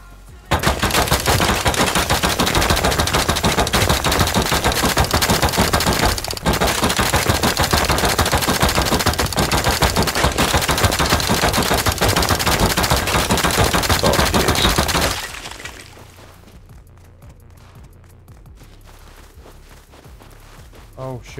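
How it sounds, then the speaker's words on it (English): Sustained rapid gunfire from the video game Rust rattles loudly and almost continuously for about fifteen seconds, then cuts off to a quiet background. "Alright, let's hear some gunshots then."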